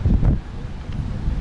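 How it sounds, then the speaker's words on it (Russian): Strong wind on a city beach in Tuapse during a storm, buffeting the microphone with a loud, gusty low roar that swells and dips for a moment with no talking. "Ой, какой сильный ветер"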